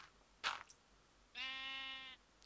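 Blocky sheep in Minecraft gives a single clear, steady bleat lasting under a second, alone against quiet background after a brief soft click.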